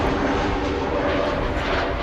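Steady, loud roar of an Embraer 190 airliner's jet engines at Amsterdam Schiphol Airport, a dense continuous rumble with no pauses and no voices.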